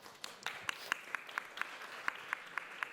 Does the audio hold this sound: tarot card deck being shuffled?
no